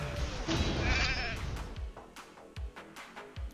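Sheep bleat in the Raid: Shadow Legends arena game, a loud wavering cry at the start followed by sharp percussive hits and effects near the end.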